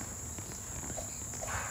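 A faint, continuous high-pitched cricket chirr drones steadily over a quiet outdoor background, with soft rustling sounds underneath.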